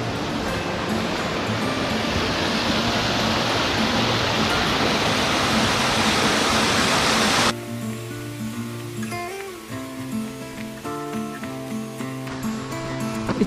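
Waterfall on the North Fork of Coyote Creek at 1,200 feet elevation in Washington during spring snowmelt, a steady loud broadband roar for about seven seconds before cutting to a quieter scene with tonal background sound.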